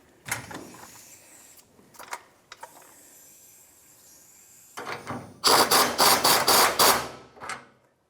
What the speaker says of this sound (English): Let's let the jack down.